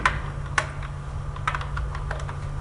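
Keys clatter on a computer keyboard as a label is typed for an Excel macro button, scattered light clicks in short bursts over a steady low electrical hum, close and without speech.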